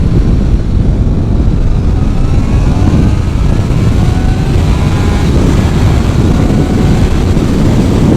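A 2019 Honda CBR 650R motorcycle pulls hard in second gear out of a corner, its engine note rising under loud, constant wind roar heard from the rider's position.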